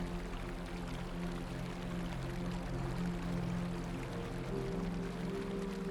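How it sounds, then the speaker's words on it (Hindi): A waterfall pours down the mountainside at Sissu in Himachal Pradesh, heard as a steady, unbroken rush of falling water with no voices over it. "नदी के दूसरी तरफ पहाड़ों से गिरता हुआ जो पानी दिखाई दे रहा है वो है शिशु का प्रसिद्ध वाटरफॉल"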